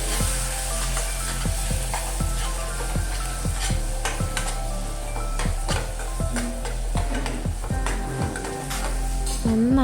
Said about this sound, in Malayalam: തൈര് ഒഴിച്ചു കൊടുത്തിട്ട് നമ്മൾ നന്നായിട്ട് മിക്സ് ചെയ്ത് കൊടുക്കണം.